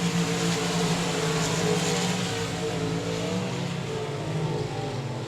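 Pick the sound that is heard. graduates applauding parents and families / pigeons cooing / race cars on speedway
race cars on speedway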